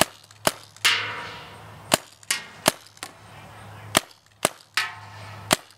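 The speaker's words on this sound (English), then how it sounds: "Raise your marker and begin shooting" Paintball or airsoft marker firing at targets on a multi-program target practice system: about eight sharp, loud shots at irregular intervals, some followed by a brief metallic ring from the hit targets, with a steady low hum in the background.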